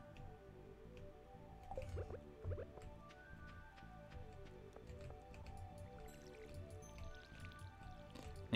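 Crops are watered in the farming video game Farmer Tom, giving soft, quiet dripping and squishy splashing effects that repeat over gentle background game music.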